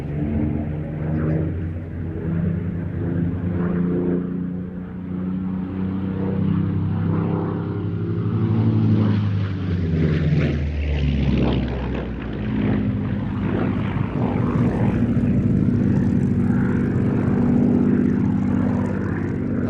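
A Spitfire's Rolls-Royce Merlin piston engine roars steadily throughout, a deep, loud propeller drone with rumbling harmonics that swell and shift as it passes.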